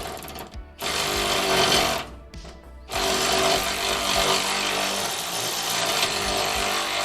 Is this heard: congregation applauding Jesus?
no